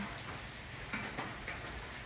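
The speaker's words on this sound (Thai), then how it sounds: "วันนี้ฝนตกเข้าวันที่ สามนะคะ" Steady rain falls outdoors on a Thai elephant's grounds, a faint continuous patter with a few slightly louder drops ticking through it, and no voices.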